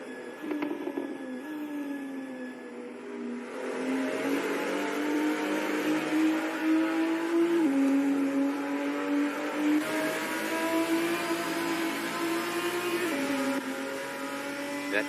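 Race car engines from a virtual SuperLap racing game, including a Toyota, roar and rev continuously, with gear changes shifting the engine pitch and a brief tire squeal, no voices over them.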